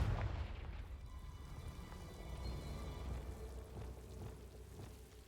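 A Confringo blasting spell goes off in Hogwarts Legacy, a dense rumbling blast with crackle that opens loud and settles into a steady, noisy roar lasting several seconds.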